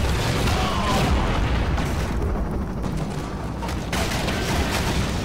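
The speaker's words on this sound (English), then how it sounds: "Wow. Explosions everywhere." Dense, continuous rumbling blasts and booms fill the whole stretch, loud and chaotic with no pause, like a barrage of explosions in the Half-Life 2 mod SMOD fighting Combine soldiers.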